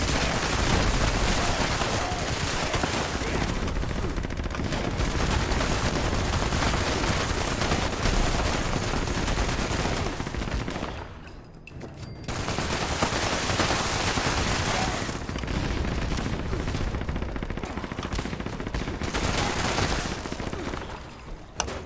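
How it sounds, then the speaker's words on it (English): Video game gunfire in Fallout 76, dense loud rapid bursts of shots running almost continuously, with one brief lull partway through before the shooting resumes at full intensity. "Use gun and shoot bad guys."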